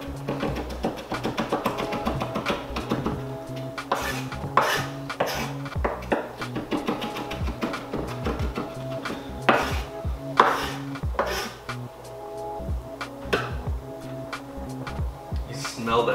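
A knife minces garlic on a cutting board with quick, uneven chopping taps that come and go beneath steady background music.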